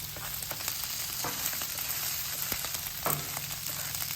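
Mushrooms cooking down in butter on a flat-top griddle for steak fried rice, a quiet, even sizzle with a few scattered pops and light scraping taps, alone without voices.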